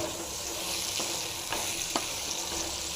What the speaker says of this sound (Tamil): அப்படியே ஃப்ரை ஃப்ரை பண்ணி நல்லா ஃப்ரை ஆகணும் இது இந்த வெண்ணெயில் லைட்டாக நல்லா வதங்கணும்